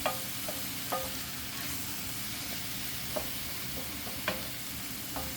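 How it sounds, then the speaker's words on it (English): Ingredients for chicken marsala sauté in a pan, giving a steady, even sizzle and hiss with occasional light clicks of a utensil stirring, close and continuous, with no talking. "you just kind of want to saute these for maybe 5-10 minutes"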